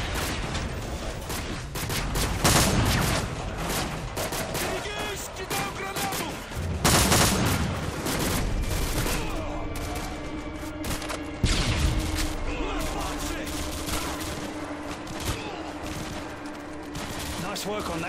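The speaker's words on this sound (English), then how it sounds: "Those explosions are going to attract a lot of attention." Dense gunfire and explosions in Call of Duty: Modern Warfare 2, with sustained automatic fire, heavy booming blasts and a steady mechanical drone, loud and continuous throughout.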